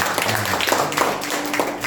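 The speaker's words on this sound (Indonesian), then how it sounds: "kasih tepuk tangan buat mereka semua" Church congregation at a Sunday worship service applauding the participants, a short burst of dense clapping with faint musical tones beneath.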